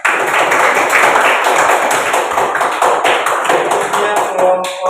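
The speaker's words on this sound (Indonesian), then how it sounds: "tepuk tangan pada Ila" Classroom applause for a student named Ila after her reading: a dense, steady wash of many hands clapping at close range for about five seconds, tapering slightly at the end.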